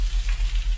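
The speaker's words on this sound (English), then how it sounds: "Bacon cooking." Bacon frying in a pan gives a steady, close crackling sizzle with a low rhythmic hum beneath, continuous and without talk.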